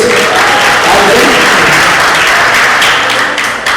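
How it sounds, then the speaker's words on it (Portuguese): Loud, dense applause from an audience at a church sermon, a continuous roar of many hands close by that holds steady and eases slightly at the end. "Uma salva de palmas então para vocês"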